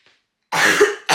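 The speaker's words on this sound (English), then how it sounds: "I've got that like dry, tickly cough" A short, dry, tickly cough bursts out close by after a moment of quiet, followed quickly by a second cough.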